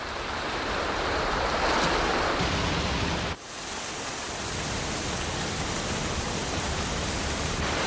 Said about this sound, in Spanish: El mar es bravo en estas costas solitarias